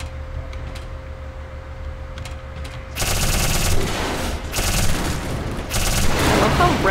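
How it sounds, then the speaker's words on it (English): A rapid-firing gun in the shooter game Black Mesa lets loose a loud, dense stream of shots that bursts in suddenly, pauses briefly and resumes with continuous rattling fire. "I love how rapid fire this thing gets."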